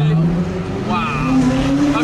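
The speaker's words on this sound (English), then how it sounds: "He legitimately just tried to drift around the roundabout." A Ferrari LaFerrari is driven hard around a roundabout at night, its engine holding a strong, steady tone with a faint tire squeal, loud and nearby, while people talk excitedly over it.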